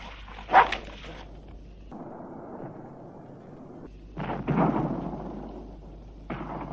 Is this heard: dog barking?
yes